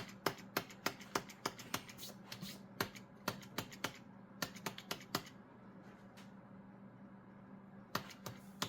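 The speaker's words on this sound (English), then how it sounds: "I'm hitting the delete key on the keyboard to get into the BIOS." Keys on a computer keyboard are pressed repeatedly on a custom AMD Ryzen PC being repaired, to enter the BIOS: sharp, close clicks in quick bursts, with a quiet pause before a final few taps.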